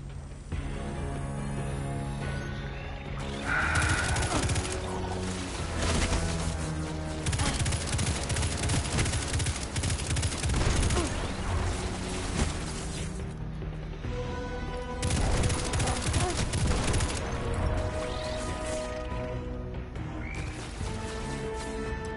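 Rapid gunfire comes at the player in a shooter game. The cracking shots arrive in repeated volleys over a dense layer of game music and effects, steady and fairly loud throughout.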